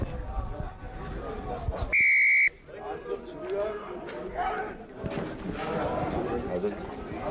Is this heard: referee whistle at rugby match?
yes